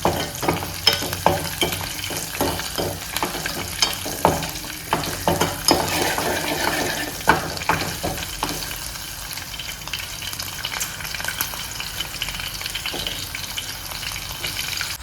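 Onions fry in oil in a pan for a chilli boondi curry, a close, continuous sizzle broken by frequent clattering stirs early on that settle into steady crackling.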